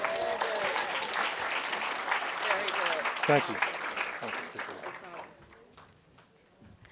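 Sustained audience applause fills a conference hall at a State of Black America discussion, loud and dense before fading out over the last seconds, with a speaker's voice briefly heard over the clapping.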